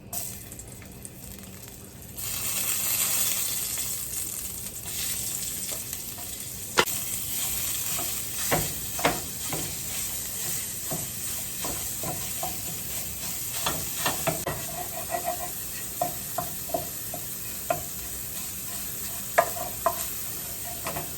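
Meat fries in a pan for a family breakfast, with steady close sizzling broken by repeated scraping and stirring clicks as it is broken up; no talking.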